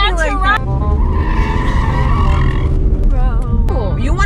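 Ford Mustang taking corners hard, its tires squealing and skidding in long wavering screeches over a loud, steady engine drone, heard from inside the car with voices breaking in.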